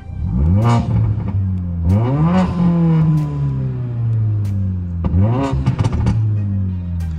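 Mercedes-Benz CLA45 AMG engine in sport mode, three sharp throttle blips that rise quickly in pitch and fall back to a throaty idle, loud and close with crackling pops on the overrun.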